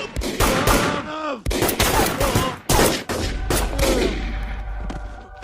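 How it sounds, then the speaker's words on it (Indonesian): Gunfire in an Indian action film scene, a fast volley of loud overlapping shots and bursts in dense rapid succession, mixed with shouting and dramatic score. "Anak buah Balram memberedel Daduji dengan senjata"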